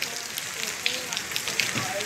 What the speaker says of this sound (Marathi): रत्नागिरीमध्ये मुसळधार पाऊस आहे